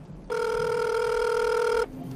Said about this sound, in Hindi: मोबाइल पर एक कॉल आता है।